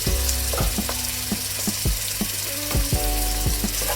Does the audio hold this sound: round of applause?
no